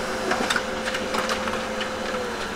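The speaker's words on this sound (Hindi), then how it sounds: "ये जो इसका फर्स्ट टेस्ट पेज है, डेमो प्रिंट आ चुका है" A Brother HL-L2321D duplex laser printer runs off its first demo test page, giving a steady mechanical whir with soft rhythmic clicks and paper-feed ticks. It sounds close, with no talk over it.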